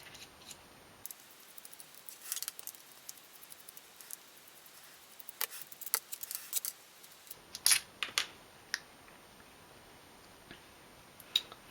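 Four back screws come out of a servo winch housing with faint, close, crisp ticking and small clicks, scattered irregularly over a quiet background with no talk.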